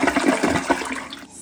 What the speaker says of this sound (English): but I'm just gonna flush it down.